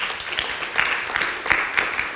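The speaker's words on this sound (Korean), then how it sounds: "우리 하나님께 영광의 박수 한번 드립시다" A church congregation at an Incheon Sunday service claps steadily and fairly loudly together, with faint pulsing accents, and no voices above it.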